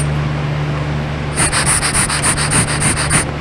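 Air blown by mouth through a faulty purge valve from a Buick Enclave, heard as a close, steady hissing rush of leaking air with a rapid fluttering pulse, alone without talk.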